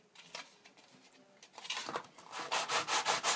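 Bluebird K7 model being rubbed down by hand, a dry scratchy sanding sound that starts soft and sparse, then grows into louder, steady back-and-forth strokes in a regular rhythm near the end.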